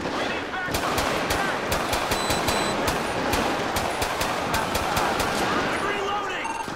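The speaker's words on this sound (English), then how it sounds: "Shots fired, dispatch, shots fired." Rapid gunfire in GTA V with the LSPDFR police mod: dense bursts of sharp shots in quick succession over continuous loud noise, with a voice talking underneath.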